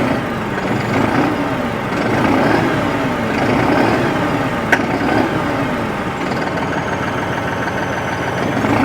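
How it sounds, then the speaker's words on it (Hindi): A New Holland 5620 TX Plus CRDI tractor diesel engine idles steadily at about 800 RPM, a continuous rumbling drone with a faint rhythmic pulse and one brief click midway. "आवाज़ आप लोग इसकी सुन लो"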